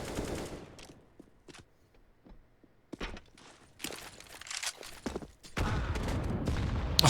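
A Counter-Strike match: bursts of rapid gunfire and footsteps, quiet stretches in between, then a loud grenade blast and dense firing building toward the end.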